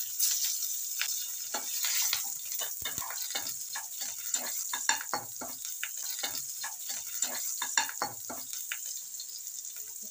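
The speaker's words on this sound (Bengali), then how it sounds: "মাছ ভাজা তেলের মধ্যে কয়েকটা কাঁচা লঙ্কা চেরা দিয়ে দিচ্ছি।" Slit green chillies crackle in oil left over from frying fish, giving a close, busy sizzle full of sharp pops and spits that carries on steadily without any talking.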